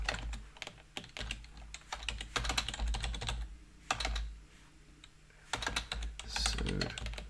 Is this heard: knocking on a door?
no